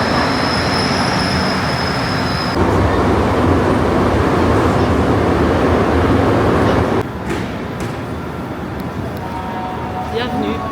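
A Montreal metro train in the underground station, a loud rumbling roar with wheel squeal that cuts off into quieter station ambience, with people talking over it.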